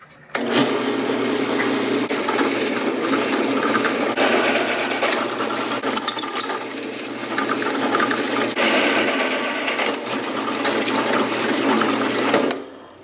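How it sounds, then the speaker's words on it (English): A power drill whirs continuously for over ten seconds, changing pitch slightly as it bites through two metal pieces clamped together, close and loud, no talking. "We're just gonna stick these two together and drill them like they're one piece."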